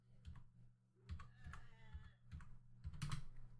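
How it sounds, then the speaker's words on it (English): Computer keyboard being typed on while router commands are entered, a run of quick clicky keystrokes in several short bursts with a slightly louder flurry near the end, close and fairly quiet over a low steady hum. "Now type router RIP and click enter."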